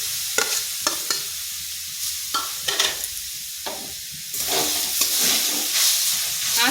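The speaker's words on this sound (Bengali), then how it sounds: "এইভাবে নাড়তে থাকলে দেখবেন নারকেলটা ঠিক ঝুরঝুরে হয়ে যাবে" A spoon scrapes and stirs coconut paste in a dry wok over medium-low heat for coconut barfi sondesh, giving repeated scraping strokes with a light sizzle that builds toward the end.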